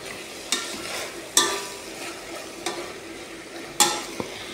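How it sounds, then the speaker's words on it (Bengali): Meat frying in a pan for a cheesy pasta dish: a steady sizzle underneath, broken by a few sharp clatters of stirring spread through the clip, with no voices. "মাংসটা খুব ভালো করে ভাজা ভাজা করবো"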